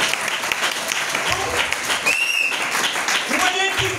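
A church congregation bursts into sustained applause for the Lord during a French-language sermon, steady clapping running the whole stretch with scattered voices and a brief shout mixed in.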